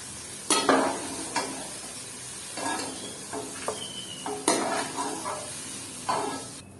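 Okra frying in a pan with oil, a soft sizzle underneath repeated scraping strokes of a spoon stirring, each stir a short distinct scrape, close and clear with no talk.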